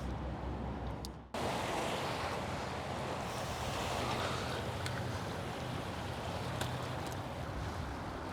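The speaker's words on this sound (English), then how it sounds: "thanks to the boat, of which I think I got a good shot, pushed up this nice wake" Boat wake waves wash along a busy river, a dense broadband rush of water and wind that starts after a brief quiet moment and then stays steady and fairly close for about seven seconds.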